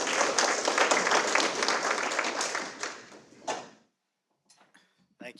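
An audience at an education forum applauds loudly for nearly four seconds, a dense crackle of clapping that cuts off abruptly, followed by a brief pause and a few scattered sounds.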